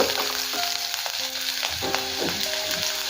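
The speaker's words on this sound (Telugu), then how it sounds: "ఇలా పచ్చిమిర్చి బాగా ఫ్రై అవ్వాలి" Green chillies fry in oil in a pan for a cabbage dish, a loud continuous sizzle laced with popping crackles and faint whistling tones, with spatula scrapes now and then, heard close and alone.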